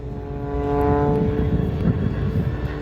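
Pitts Special aerobatic biplane flying a centrifuge maneuver at an air show, its propeller engine giving a loud, steady, harmonic drone that swells and holds throughout.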